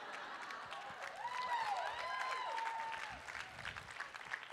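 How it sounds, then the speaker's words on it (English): Audience clapping at a fashion show, moderate and steady, with a faint high whistle or squeal drifting through the middle. "I'm glad you're clapping at that"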